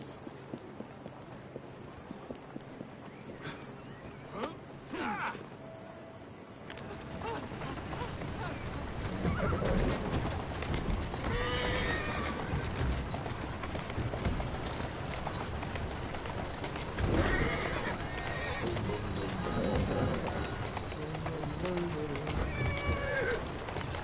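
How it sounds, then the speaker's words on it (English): A horse in Assassin's Creed Syndicate gives several neighs and whinnies over clip-clopping hooves and street ambience, fairly close, with some faint voices in the background. "He's a good horse."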